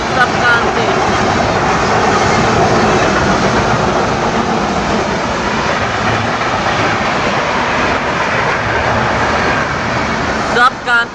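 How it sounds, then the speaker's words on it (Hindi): The Sampark Kranti Express, running Muzaffarpur–Anand Vihar via Lucknow, passes close by with a loud, sustained rumble and rhythmic wheel clatter that holds throughout, with voices talking over the noise. "सब क्रांति एक्सप्रेस मुजफ्फरपुर आनंद विहार लखनऊ से अभी निकलता है।"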